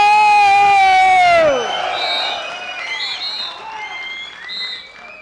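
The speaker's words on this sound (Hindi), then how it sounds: "या तालियां, हल्ले," A seminar crowd opens with a loud, sustained whistle-like tone that falls in pitch, then breaks into cheering, whoops and clapping that rise and fall in several energetic swells.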